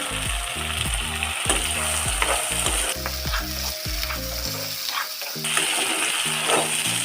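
Chopped carrots and beans frying in a pan with garlic and ginger for an egg curry. A loud, continuous sizzle runs throughout with stirring scrapes, and tonal music plays in the background.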